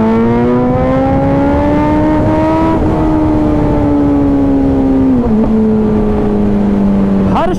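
Kawasaki Z900 motorcycle in a street race, its engine howling loud and close with pitch dipping at each gear shift, and a sharp crackling pop near the end.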